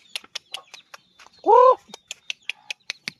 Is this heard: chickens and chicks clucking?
yes